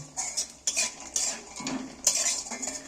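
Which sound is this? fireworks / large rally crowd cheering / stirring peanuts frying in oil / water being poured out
stirring peanuts frying in oil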